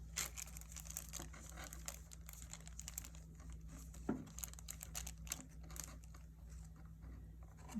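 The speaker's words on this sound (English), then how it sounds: "now I'm going to remove the plastic from the Foley" A plastic wrapper being peeled off a Foley catheter: faint, close crinkling and soft crackling rustles in irregular bursts, with one slightly sharper tear partway through, over a low steady background hum.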